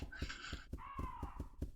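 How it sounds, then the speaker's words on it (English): Crows caw in the Resident Evil Zero video game, two drawn-out harsh calls in quick succession at moderate volume over a steady rhythmic thumping, with no voices. "The crows want to come play."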